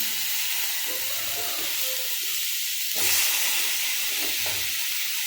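Eggplant pieces drop into a pan of sizzling, spiced kara kuzhambu masala, giving a steady close frying hiss with a brief louder burst of sizzle as the vegetables hit the hot oil.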